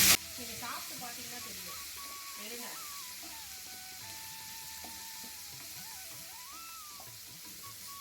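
Small garlic cloves frying in oil in a pan for Kancheepuram garlic kuzhambu, a steady close sizzle running throughout with a voice talking over it.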